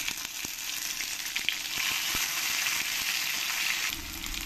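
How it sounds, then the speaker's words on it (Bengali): Whole spices, bay leaf, dried red chilli and nigella seeds crackling in hot oil, a bright, even sizzle with scattered pops and spits, sustained close-up throughout. "এবার আমি এর মধ্যে দিয়ে দেবো কিছু গোটা মশলা, তেজপাতা, শুকনো লঙ্কা আর কালো জিরে"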